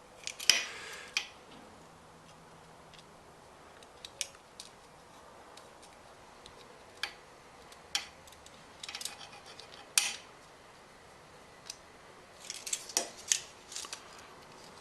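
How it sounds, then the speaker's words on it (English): Faint metallic scraping and light ticks from welding tip cleaners being worked into a carburetor jet on a Craftsman lawn mower, heard as scattered short bursts over a quiet background. "Get out my trusty old tip cleaners from my welding days"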